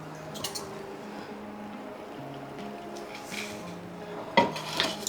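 Gram flour being whisked with buttermilk in a bowl for khandvi batter, giving soft squishy stirring and light clinks of a utensil against the dish, with a sharper knock of metal near the end.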